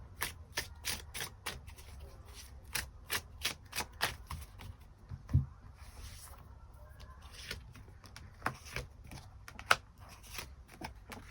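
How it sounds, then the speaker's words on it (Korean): Tarot cards being shuffled and drawn by hand, a rapid series of crisp snapping riffles and soft slides, close and clear, with short pauses and a louder tap midway; no talking. "추가 카드 뽑아보도록 하겠습니다"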